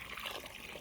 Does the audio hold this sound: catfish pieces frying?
no